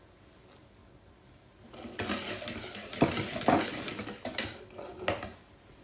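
Balloon whisk mixing rice cake batter in a bowl, a run of brisk irregular clinks and scrapes against the bowl, close and fairly quiet, with no talking.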